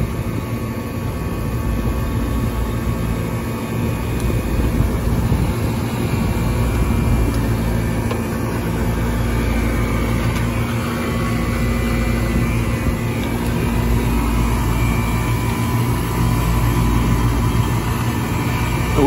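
Compressor number 1 of an AC unit runs steadily, a continuous low mechanical hum and drone with a faint high whine, holding even and loud throughout with no talking.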